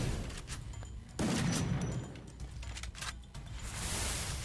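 Rapid shots from a skinned gun in the battle-royale game Free Fire, a loud burst followed by scattered sharp cracks and game noise at moderate level.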